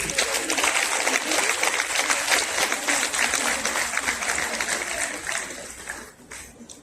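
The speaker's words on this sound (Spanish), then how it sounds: "Vamos a darle un aplauso a Rafael." A crowd at a Spanish-language talk on justification gives a warm round of applause, a dense, even burst of clapping from many hands that tapers off in the final second.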